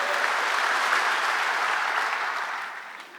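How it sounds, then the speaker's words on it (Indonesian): A church congregation claps during a worship service in a sustained, even round of applause that gradually fades out toward the end. "Tepuk tangan bagi Allah kita."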